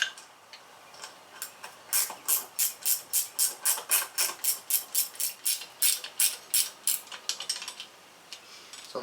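A ratchet wrench snugs down intake bolts on a 1994 Chevrolet S10 4.3L Vortec engine, a fast run of close, crisp clicking strokes in bursts.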